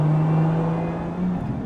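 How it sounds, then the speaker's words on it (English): A Lotus Emira fitted with free-flow headers and an aftermarket intake, exhaust valves closed, gives a steady low engine drone with strong intake noise, loud and close with no talk. "you just get a lot of intake noise,"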